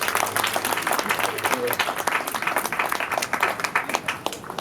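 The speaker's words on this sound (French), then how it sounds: "Je pense qu'on peut encore applaudir Zahir une fois." An audience at a mock trial applauds Zahir with steady, dense clapping from a crowd that continues without pause, and some voices can be heard beneath it.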